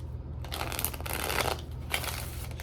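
A deck of tarot cards is shuffled by hand in short, soft riffling bursts, close and quiet with no talking.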